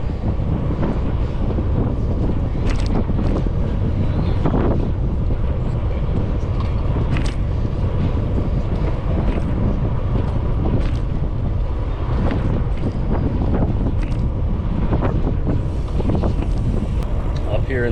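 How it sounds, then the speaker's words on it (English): Strong headwind rushing and buffeting the microphone while cycling on a RAGBRAI road ride, a loud continuous roar of wind noise that lasts the whole stretch with no let-up. "Drafting seems to be helping in this headwind a little bit."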